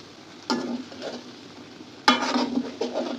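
Mixed vegetable curry, spiced with turmeric, chili powder, cumin, garam masala and a little sugar, is stirred in a pan. Two close bursts of scraping and gentle sizzling come about a second and a half apart.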